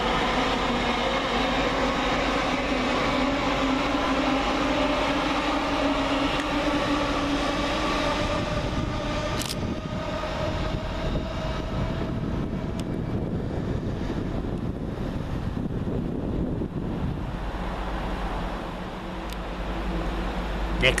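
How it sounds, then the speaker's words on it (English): Great Western Railway train 800 314 pulls out of Reading station westbound for Hereford, a steady loud rumble with rising and sliding engine tones, wind buffeting the microphone throughout. "Departing westbound at Reading is 800 314."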